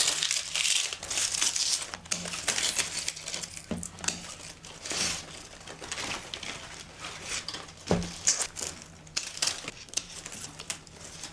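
Dry, dead leaves being pulled off a Pinstripe Calathea houseplant, giving close, continuous crinkling and crackling with sharper snaps as brittle leaves break.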